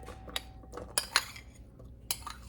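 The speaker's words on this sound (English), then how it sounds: "spoon them into this big bowl" Drained black beans being spooned into a big bowl, with a few sharp metal spoon clinks against the bowl over a low background hum, close and moderately loud, and no speech.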